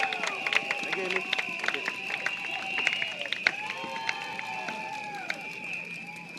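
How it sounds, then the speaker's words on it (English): Outdoor election rally crowd in Tampines applauding and cheering as a speaker is introduced; dense clapping and whoops with a voice talking over it, sustained and fairly loud. "Let's give your loudest round of applause to Mr. Iswandi"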